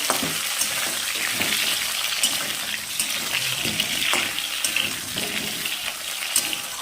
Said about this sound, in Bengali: আলুগুলো লাল লাল করে ভাজা হয়ে এসছে